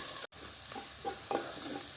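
Roasted masala powder of coriander, dried chilli, cumin and pepper fries in a pan with vegetables, making a steady sizzle. A spoon scrapes and stirs through it now and then, and no one speaks.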